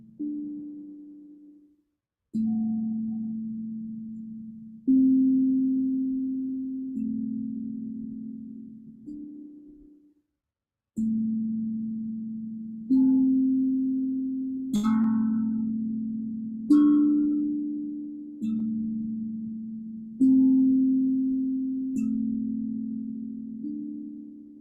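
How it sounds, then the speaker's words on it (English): A steel drum plays slow, single tones during an evening meditation, about a dozen clear, resonant notes, each struck and left to ring and decay before the next, with no talking. "guided by the tones of the steel drum."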